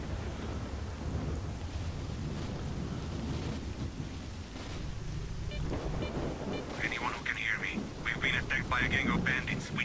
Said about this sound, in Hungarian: hogy dörög villámlik